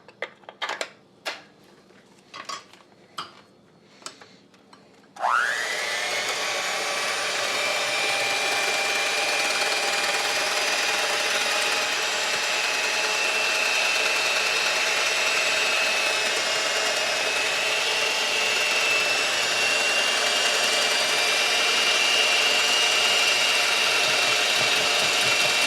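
A handheld electric power whisk whirs steadily as it beats Cool Whip for a cherry Jell-O dessert, starting after a few light knocks and running loud and continuous for about twenty seconds.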